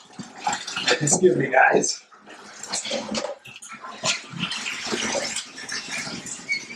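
A bathtub fills with running water, a steady close hiss and splash that continues beneath a person talking throughout.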